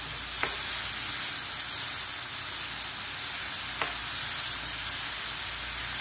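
Vegetables and instant noodles fry in a hot pan while being mixed, a constant loud sizzle broken by a couple of light utensil clicks against the pan.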